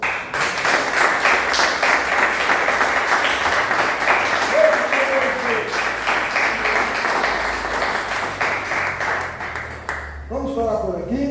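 A church congregation applauds in sustained, dense clapping for about ten seconds, steady and fairly loud, before it thins out near the end as a voice begins to speak.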